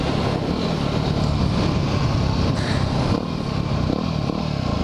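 A dirt bike engine runs steady and loud, a close, rough buzzing drone with slight rises in pitch, with no voices over it.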